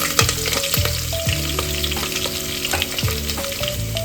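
Mustard seeds, two dried chilies, curry leaves and garlic sizzle and crackle in hot oil close up, with steady frying hiss and repeated stirring scrapes and clinks of a utensil in the pan.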